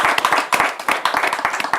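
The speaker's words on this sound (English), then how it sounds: "let's give him a big round of applause" A small group gives a round of applause for a summit moderator, with distinct, uneven hand claps bunching into quick bursts that stay close and moderately loud throughout.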